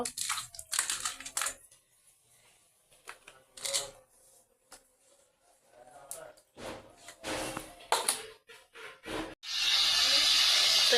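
Salted bata fish hits hot oil in a pan on a stove, setting off a sudden, loud, steady sizzle near the end. Before it, scattered clinks and clatter of cookware come in short bursts.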